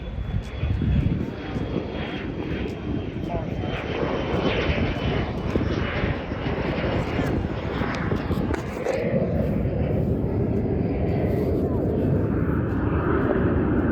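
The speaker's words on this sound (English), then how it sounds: "guess who's now taking off? That's a little Delta." A small Delta jet airliner takes off at Charlotte airport, its engines building into a loud, steady roar that fills the whole stretch, with a person talking over it.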